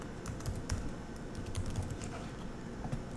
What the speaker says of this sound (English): I'm just going to type button.